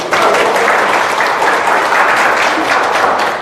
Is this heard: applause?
yes